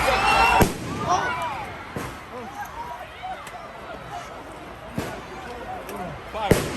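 Several sharp fireworks bangs burst out over a noisy crowd at Washington Square Park, Manhattan, during Pride, with sparse loud cracks spread across the stretch and people chattering and calling throughout.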